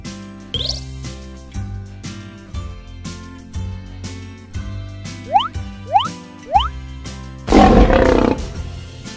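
Cartoon lion roar in a children's animal game, heard over a bouncy music bed with boing-like sliding effects, ending in a loud, raspy burst near the end.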